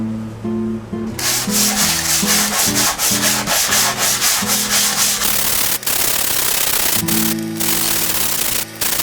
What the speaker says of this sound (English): So I've given these both a sanding with this little sanding block here.